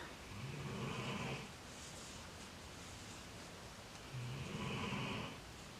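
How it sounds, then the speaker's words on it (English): Two slow, low breathy snores from a dog, one early and one near the end, set against a steady hiss of background noise. "You might be able to hear her snoring."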